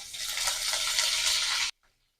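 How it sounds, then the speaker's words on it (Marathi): Curry leaves hitting hot oil with cumin and mustard seeds, a loud, sharp burst of crackling sizzle that holds steady for under two seconds and then stops abruptly. "जिरं मोहरी छान फुललंय की घालणार आहोत कढीपत्ता"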